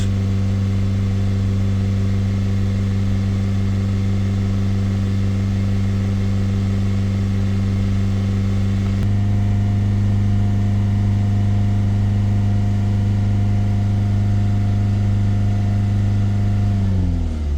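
Ford Transit Custom 2.2 diesel van engine running steadily nearby, a held higher rev that drops partway through to a lower, even idle, with no talk.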